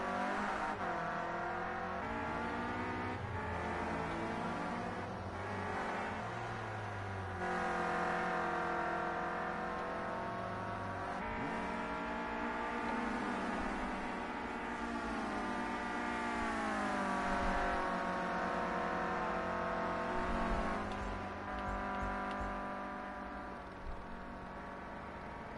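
Clio Cup race cars in the Project Cars 2 video game drive steadily along the track with continuous engine whine and shifting revs, several cars overlapping at high, constant loudness, with no talk over them.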